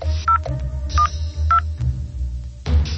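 A landline telephone being dialed indoors, a short series of clear, loud keypad tones with brief gaps between presses, each standing out over a low background hum.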